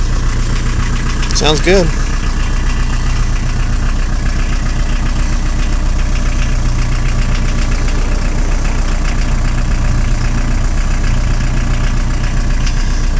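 A 1980 VW truck engine idles steadily after a cold start, a constant low rumble running throughout, with someone speaking briefly near the start.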